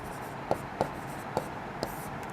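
Four short scratchy pen or chalk taps mark writing during a Sanskrit grammar lesson, spaced unevenly over a steady background hum, with a voice in the background.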